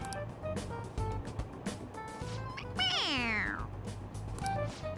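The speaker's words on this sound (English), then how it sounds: "It meows when you press on its head." A toy cat in Persona 5 Royal lets out a single drawn-out, falling meow when its head is pressed, clear and prominent over background game music, with faint talk nearby.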